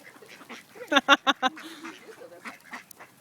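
Four loud, honking calls from a goose in quick succession, close by, followed by softer chatter and quieter calls.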